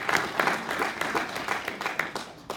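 An indoor audience at a wealth-management seminar gives a round of applause, a dense run of clapping at moderate distance that holds steady before thinning toward the end.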